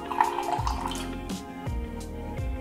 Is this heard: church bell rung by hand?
no